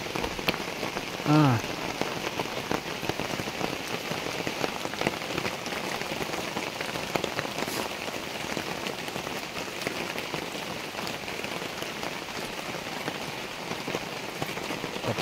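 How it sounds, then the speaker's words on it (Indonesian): Heavy rain pours steadily onto a garden, a dense, even hiss of drops on leaves and surfaces throughout, with a brief spoken word early on. "kacau sekali nih kalau hujan begini nih"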